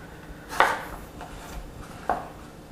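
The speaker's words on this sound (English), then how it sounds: "So I'm going to slice it in half this way." A knife cuts through a pear, halving it for a salad on a cutting board: two crisp, separate chops about a second and a half apart, each with a short crunch, close up with no talking.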